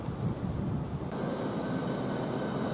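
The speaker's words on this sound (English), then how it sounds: "Now we've got a train coming in with the Southeastern service" A Southeastern train pulls into Stratford International station with a steady, continuous rumble of wheels and motors, fairly near and unbroken, with no voices.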